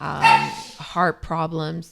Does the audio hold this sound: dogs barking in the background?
yes